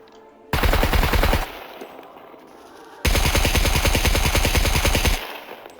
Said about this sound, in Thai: โอ๊ตช่วยยิงนักที